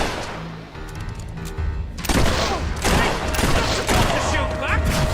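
Dense bursts of rapid gunfire from a firefight in the Fable 3 video game, loud and sustained, with layered crackling shots and battle noise.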